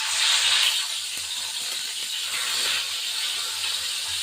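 Tengra fish coated in salt and turmeric sizzles in hot oil in a pan, a steady, moderately loud frying hiss that swells slightly at the start and holds with no one speaking.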